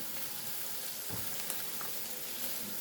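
Mushrooms go into onions frying in a pan, giving a steady close sizzle with faint stirring scrapes and no talking.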